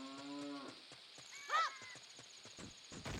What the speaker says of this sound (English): You'd hear that cow.